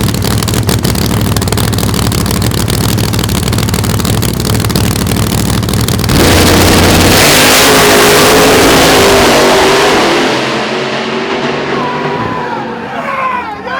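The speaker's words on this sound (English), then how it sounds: "Both cars are in the Pro Nitrous category, and this is a great side-by-side race." Two Pro Nitrous drag race cars launch side by side at Darlington Dragway, a deafening, sustained engine roar that swells then fades into the distance as a crowd cheers.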